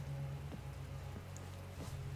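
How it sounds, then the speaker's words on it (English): Rain falls in the Yakuza 0 video game, a soft steady patter blended under a low humming game background, with a few faint splashy accents and no speech. "get out of the rain"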